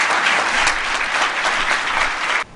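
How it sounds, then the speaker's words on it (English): A crowd applauds President Paul Kagame of Rwanda with loud, dense clapping that holds steady for a couple of seconds, then cuts off abruptly at the end. "President Paul Kagame of the Republic of Rwanda deserves a round of applause for making time to speak to us"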